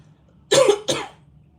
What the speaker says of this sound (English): This coughing stuff is so weird.